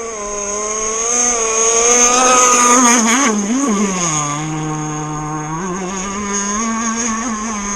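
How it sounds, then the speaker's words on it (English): Blazer Marine Backlash Gen 3 RC boat engine running boggy, a loud buzzing two-stroke whine that rises and sags unevenly in pitch as the throttle bogs, close and continuous with no talk. "So the engine isn't running great. It's very boggy."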